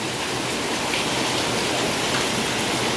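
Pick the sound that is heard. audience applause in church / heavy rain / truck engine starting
heavy rain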